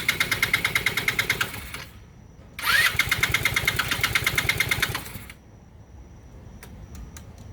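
A carbureted small engine that needs its carburetor cleaned cranks and fires, stalls briefly, then restarts and runs with a rapid, steady chug up close before cutting off, leaving faint clicks.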